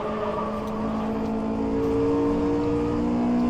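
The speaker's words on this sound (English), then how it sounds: "this car's been driven in the red line most of the time, it's going to need a new engine" A race car engine in the rFactor2 driving sim, Isle of Man course, holds a steady high-pitched whine near redline and rises slightly in pitch, loud and continuous with no talking.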